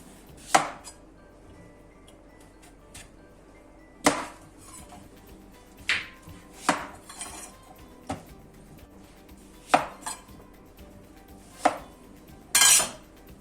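Sharp, isolated knife strikes slicing squash on a cutting board, about eight spaced irregularly over several seconds, close and fairly crisp, with no talking.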